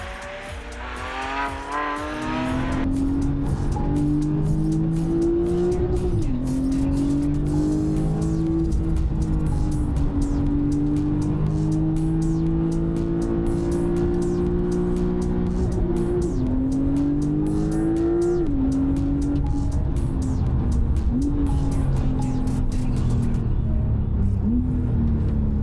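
A Porsche sports car roars loudly and continuously on the Buddh International Circuit, pitch climbing through gear changes with brief dips between shifts, tires occasionally squealing, no talking.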